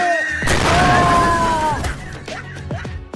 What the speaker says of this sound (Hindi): दिवाली है, एंजॉय करो और लो पटाखे फोड़ो।